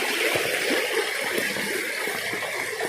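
Steady rushing flow of a mountain stream that keeps running even in the dry season, a dense broadband wash of water filling the whole stretch at close range with no voices.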